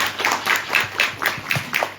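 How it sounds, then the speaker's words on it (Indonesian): Hands clap in scattered, uneven bursts for a man being honored at a community sharing gathering in Banjarnegara, a modest ripple of applause at moderate distance with no voices over it. "Tepuk tangan untuk beliau."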